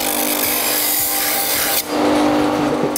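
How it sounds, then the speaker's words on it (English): A 3D printer scraper blade being sharpened on a fine grinding wheel gives a close, steady abrasive rasp and whine, which swells brighter and louder about two-thirds of the way through, no talking. "I'm going to clean it up on the finer wheel."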